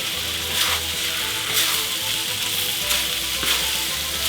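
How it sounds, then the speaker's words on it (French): Beef strips and marinade frying in a hot pan, a loud steady sizzle with periodic swells about once a second as the meat is turned and stirred, close up. "on met le bœuf ainsi que la marinade et on va faire un tourne-et-retourne assez régulier."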